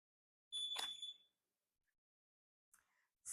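An alarm sounds in a quiet room: one loud shrill tonal burst of under a second, then silence, then fainter short bursts starting again.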